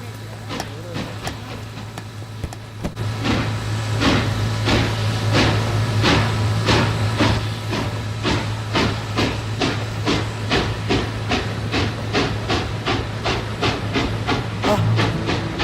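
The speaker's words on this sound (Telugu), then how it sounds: "ఏ ట్రైన్ కదులుతుంది" A train starting to move, with a steady low hum and a long run of evenly spaced rhythmic clacks that become regular after a few seconds, continuous and fairly loud, no talk.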